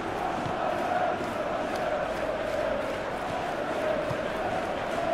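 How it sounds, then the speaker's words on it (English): A stadium crowd in a PES football match between Tottenham Hotspur and Bayern Munich roars in a steady, dense wash of cheering that holds evenly for the whole stretch. "Well, the crowd clearly like what they just saw."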